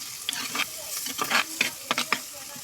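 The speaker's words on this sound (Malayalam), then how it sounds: "തക്കാളി പഴം അതൊന്ന് ഉടച്ചു കൊടുക്കണം കേട്ടോ." Tomato is mashed while fish curry is stirred in a pan. A series of wet, squelching scrapes and taps comes close and uneven, with short bursts over a soft sizzling background.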